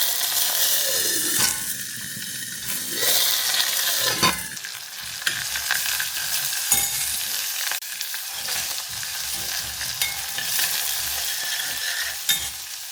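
Curry leaves and green chillies drop into hot oil for a bhindi dish and crackle loudly, sputtering in a dense, continuous sizzle with irregular pops and spoon scrapes throughout.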